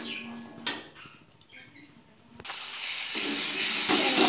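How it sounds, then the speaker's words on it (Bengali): Spice paste mixed with tomato paste fries in oil, starting with soft scraping and a clink before a loud, close sizzling hiss swells up and keeps building. "তেল ছাড়া অবধি মশলাটা কষিয়ে নিচ্ছি বন্ধুরা।"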